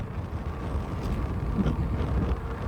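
Wind buffets the microphone while someone rides an all-wheel-drive e-bike along a back road on a cold day: a continuous low, rumbling roar with gusty swells, fairly quiet and steady, with no talking.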